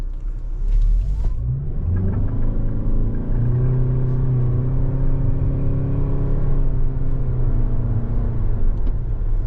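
A 2024 Toyota Venza XLE with an eCVT accelerates in manual mode, its engine rising in a smooth, close droning rumble with no distinct shift breaks.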